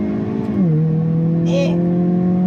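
A 2022 Hyundai Kona N hatchback revs up and accelerates in boost mode, its pitch dropping then holding steady in a strong, continuous drone, with a brief higher whine midway.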